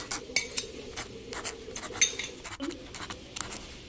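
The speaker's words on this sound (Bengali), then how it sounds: "সমস্ত মশলাগুলো একসাথে মিক্স করে নিচ্ছি।" Spoon clinks and scrapes against a pan while ginger-garlic paste, tomato sauce and spices are mixed together for egg curry, a series of light, irregular metallic taps, fairly quiet, with no talking.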